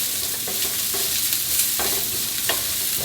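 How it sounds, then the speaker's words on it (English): Carrots searing in a smoking-hot pan give a loud, steady sizzle with brief scraping stirs and small crackling bursts, close up and without speech. "Now that our pan is nice and smoking hot, we add our carrots. And we're gonna let this sear for about 3 to 4 minutes"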